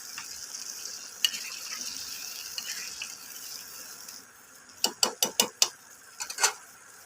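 Pre-fried tiger prawns go into a pan with poppy seed paste, giving a soft sizzle followed by a quick run of sharp clattering knocks and scrapes from the utensil against the pan.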